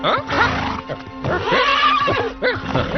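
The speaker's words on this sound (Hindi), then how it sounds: "ये घोड़ा बरसों से मेरे पास है" A horse in a Hollywood action film scene lets out a loud, close neigh. It is a long, quavering whinny with shaky rising and falling pitch, broken by short snorting pauses, and carries on across the whole moment.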